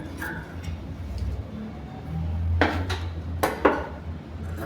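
Scissors cut the front piece of a blouse from fabric, giving a few crisp metallic snips and clicks, with a cluster of louder cuts close together near the end over a quiet room background.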